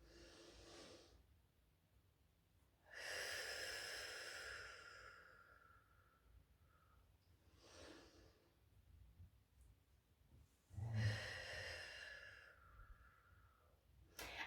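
A slow deep breathing exercise: quiet, drawn-out inhales and exhales alternating at a calm, unhurried pace, soft and close with long silent gaps between breaths.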